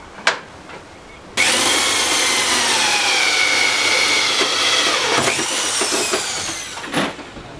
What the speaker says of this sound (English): now, is use the hole saw